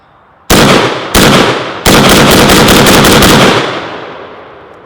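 An M92 PAP AK-pattern rifle fitted with a stock fires three loud, close shots outdoors, the last followed by a rapid burst, each report ringing with a sharp crack and a long decaying echo.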